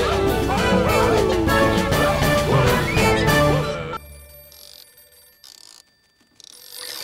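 In a French cartoon, a telephone rings with a bright trilling bell in repeated bursts after busy music stops, fairly loud and alone.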